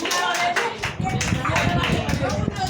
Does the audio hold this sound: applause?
yes